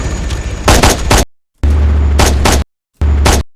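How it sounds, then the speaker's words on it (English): Loud bursts of gunfire in ArmA 3, three separate volleys of rapid shots close by, each cut off abruptly by silence, with a low helicopter rumble underneath. "a gunshot that you fire should be a tad bit louder than the helicopter"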